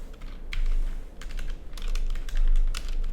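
Someone types on a computer keyboard in quick irregular bursts of crisp clicks close to the microphone, with short pauses between runs of keystrokes and a low steady hum underneath.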